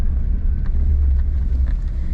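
Steady low road rumble and muted engine hum inside a Mitsubishi Pajero Junior on spring suspension while driving, a quiet cabin with light wind noise and faint knocks, no talking.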